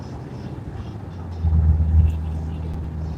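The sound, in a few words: car engine while driving on a commute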